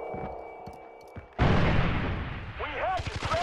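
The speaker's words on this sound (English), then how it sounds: "Throwing a grenade!" In Call of Duty, a grenade explodes with a loud, sudden boom after a stretch of game noise, then a long rumbling tail with voices and scattered effects over it.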